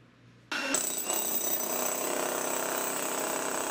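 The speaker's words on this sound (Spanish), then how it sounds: "Así trabajaban los bomberos de Zapopan, taladrando el piso" A powered drill or jackhammer bites into a floor as firefighters in Zapopan, Mexico, work to free a puppy trapped in a drain, grinding loud and continuous up close after a quieter start.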